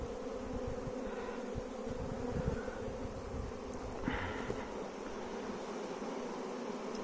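A freshly caught bee swarm drones with a dense, continuous buzz of many bees up close, steady and unbroken throughout with no talk.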